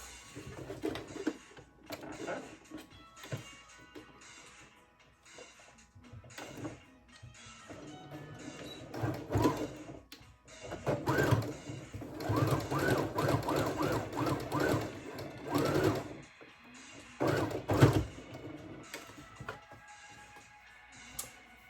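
A sewing machine stitches through two layers of fabric on a shirt collar in bursts of rapid mechanical clatter, stopping and starting several times, louder and longer toward the middle and end.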